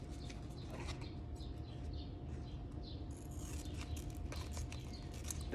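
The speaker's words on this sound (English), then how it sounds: "The birds are chirping." Birds chirp and tweet in short, scattered calls through a steady background hiss, some doves cooing softly among them at moderate distance.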